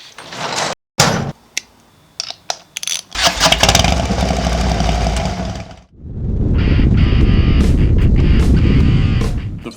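A 2018 Harley-Davidson Fat Bob with the 114 cubic inch Milwaukee-Eight V-twin fires up after a few clicks and thuds, then runs with a loud, steady low rumble, fading briefly before the revs swell back up close by.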